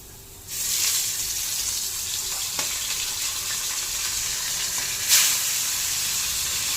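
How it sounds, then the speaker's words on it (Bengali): A hilsa fish head coated in turmeric and Kashmiri chili powder hits hot oil, bursting into a loud, steady sizzle that stays up close and continuous, with a brief flare of spitting toward the end. "এবার এই মাথাটা দেব"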